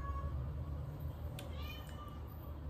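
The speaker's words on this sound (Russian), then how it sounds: "Там кот орёт." A displeased indoor cat yowls in a couple of drawn-out, wavering meows, moderately close, over a steady low hum in a home.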